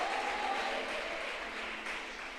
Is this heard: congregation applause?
yes